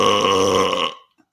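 A single loud, close belch lasting about a second, with a rough, buzzing tone that cuts off abruptly into silence.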